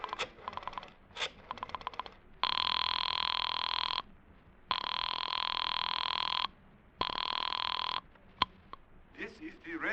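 A telephone rings after being dialed in a radio drama sound effect: first a rapid string of clicks, then three long, loud electric rings separated by silent pauses, ending in a click and a rustle.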